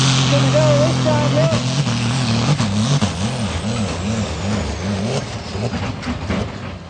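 The Extreme Force pulling vehicle roars through a pull, its engine revving in rapid wavering surges, loud and close, with crowd noise and voices mixed underneath.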